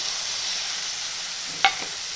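Washed moong dal tipped into a hot pan with fenugreek leaves, giving a steady oily sizzle with a brief louder hiss and clatter as the lentils land near the end; no talking.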